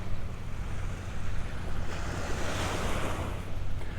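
Steady ocean surf washes onto a beach at Delnor-Wiggins Pass State Park during an incoming tide, a continuous roar of breaking waves mixed with wind noise on the microphone.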